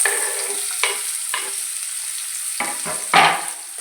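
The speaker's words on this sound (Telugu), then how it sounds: "ఆయిల్ హీట్ చేసుకొని అల్లం వేపుకుందాము." Peeled ginger sizzling in hot oil in a pan, several separate bursts of frying crackle as pieces are stirred, close by, the last burst loudest, with quieter crackle between.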